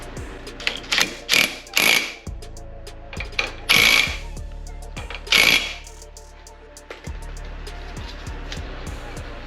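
A fastener on the front suspension of a Hammerhead GTS 150 Platinum scooter is tightened with a tool, giving repeated close clicks and metallic rattling bursts with short pauses between them.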